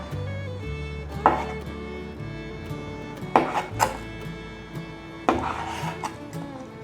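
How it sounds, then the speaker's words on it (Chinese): A knife slices pressed tofu (dougan) into thick slices on a cutting board: several sharp, distinct knocks spaced a second or two apart over a steady background hum. "准备4片豆干，把豆干切片。"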